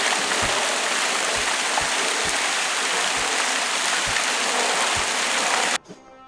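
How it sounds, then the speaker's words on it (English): The Jubilee fountain in Windsor gives a constant rushing splash of falling water, fairly close and steady, with faint regular low thumps underneath, ending abruptly near the close with no one speaking. "This Jubilee fountain was quite impressive."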